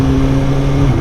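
A Suzuki GSX-S 750 motorcycle engine holds a steady, loud revving drone up close during a quickshifter gear change on the road, with continuous wind rush and no pause.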